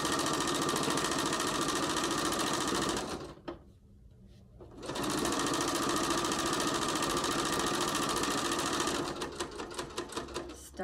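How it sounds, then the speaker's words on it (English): A sewing machine running a quarter-inch seam along fabric for a hot pad, a fast, steady whirring stitch that stops for about two seconds, restarts, and ends in a few slower, separate stitch pulses. "Sew it from the edge all the way down at quarter inch."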